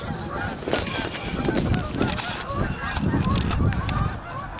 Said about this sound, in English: Got all them geese.